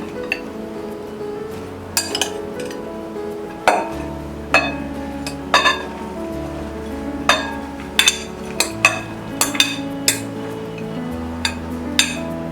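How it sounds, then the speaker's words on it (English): Finely chopped raw mangoes are mixed in a bowl for an instant mango pickle, making a string of sharp, irregular clinks of a utensil against the dish, close and clear with quiet gaps between strikes. "I'm going to take these raw mangoes which I've finely chopped and put it in another bowl as I need to mix it together"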